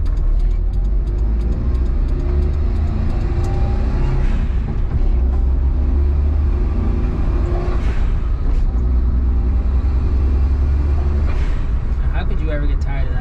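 Steady engine rumble from inside a moving Suzuki Jimny, low and continuous, with road noise throughout and occasional faint background sounds.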